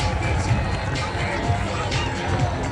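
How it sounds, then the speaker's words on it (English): A waterfront crowd in Wellington cheers and applauds as a long-distance open-water swimmer arrives, a dense, steady roar of voices and clapping with scattered louder shouts throughout. "We can hear the support."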